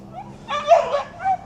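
A dog at Glasgow's new Christmas market lets out a short run of whimpering yips and whines, close and fairly loud, with a brief pause between bursts.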